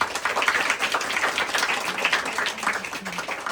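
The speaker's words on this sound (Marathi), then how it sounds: "त्यामुळे सगळ्यात आधी शिक्षकांसाठी एकदा टाळ्या." An audience of schoolchildren claps for their teachers at an Independence Day school gathering, with a dense, continuous burst of applause that is fairly loud and close, tapering only slightly toward the end.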